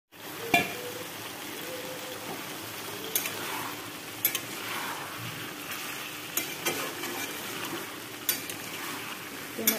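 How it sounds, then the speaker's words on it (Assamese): Duck meat, potato and pumpkin fry in a pan under a constant sizzle, with a few sharp clinks and scrapes as the mixture is stirred. "এনেদৰে কোমোৰাখিনি মাংসৰ আলুৰ লগত ভালদৰে মিহলাই অকণমান সময় ভাজি থাকিম"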